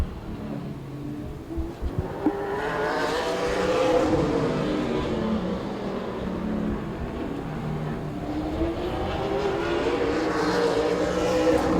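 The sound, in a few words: super late model race cars on a speedway qualifying lap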